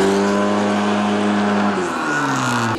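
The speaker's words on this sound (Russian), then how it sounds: "старт, быстрый разгон и визг тормозов на финише" Drag racing cars accelerating at speeds up to 200 km/h, a loud, steady engine roar with rising and falling pitch as gears change, heard close and continuous throughout.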